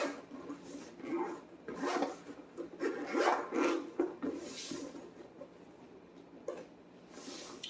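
A zippered GoPro accessories carrying case is opened by hand, with several short zip strokes and soft fabric rubbing, quiet and close.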